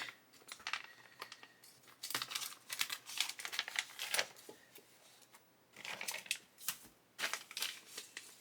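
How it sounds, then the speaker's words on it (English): Crinkling plastic bag and snipping scissors close by, a series of sharp irregular rustles and cuts with brief pauses, no talking. "So we'll grab some scissors and open the bag."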